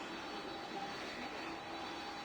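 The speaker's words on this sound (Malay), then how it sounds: "Sekarang ni kita akan bawa jet." A jet aircraft engine in the PTFS flight video game roars in a steady, even whoosh that holds at one level throughout, with no voices.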